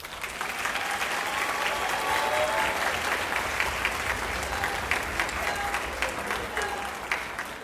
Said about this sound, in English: will you give yourself a round of applause, please?